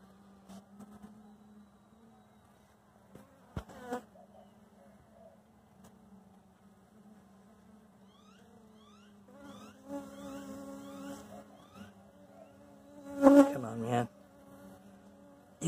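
Bees buzz in a low, steady drone around a sick hive with a failing queen, with a few louder passes close by and some handling noise.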